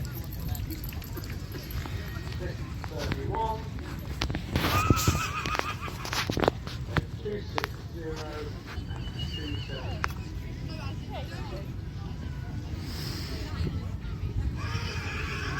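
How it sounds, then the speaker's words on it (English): Horses neigh and whinny several times at the Ardingly show over a busy background of hooves clip-clopping and crowd chatter, with people talking nearby. "Just some of the horses there for you"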